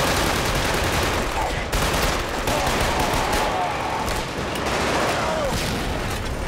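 Sustained video game gunfire aimed at an ammo crate, rapid shots and crackling bursts running continuously at loud, steady volume with little letup.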